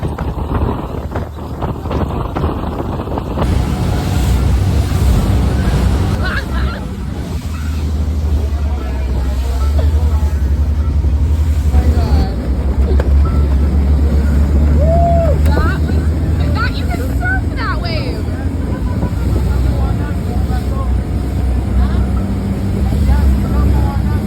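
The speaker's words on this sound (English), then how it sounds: "We had to haul it through these waves to get there." A boat engine drones steadily as the craft pounds across rough open ocean off Belize, with wind buffeting the microphone and water rushing past throughout, loud and continuous, while faint voices murmur underneath.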